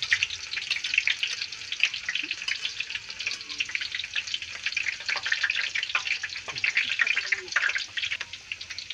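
Chopped onions sauté in a hot pan for a home-cooked fish pastil dish, a continuous close sizzle and crackle with faint stirring and scraping underneath.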